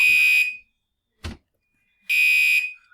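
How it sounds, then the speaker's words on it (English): Fire alarm in a building blaring in two loud electronic bursts, separated by a short thud and a pause of silence. "this is not an active fire alarm"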